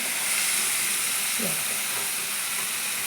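Spices sizzling in hot oil while tempering (oggarane) for palya: a continuous, even hiss that holds at a constant level for the whole stretch.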